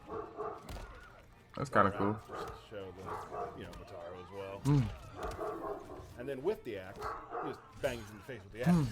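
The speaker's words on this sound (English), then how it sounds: "Sorry for my dogs." Dogs bark and yip indoors in the background while someone talks continuously over Mortal Kombat 1 gameplay.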